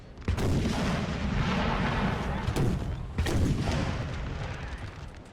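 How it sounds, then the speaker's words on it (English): Heavy cannon fire from 18-pounder guns in the Napoleon Total War strategy game, a dense rumbling barrage of overlapping booms with sharper blasts standing out, loud and continuous with no talk. "Massive cannons here."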